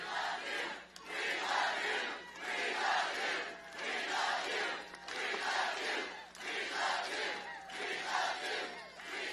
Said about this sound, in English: How about the crowd chants?